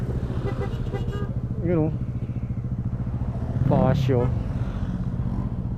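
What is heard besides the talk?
motorcycles riding past in a group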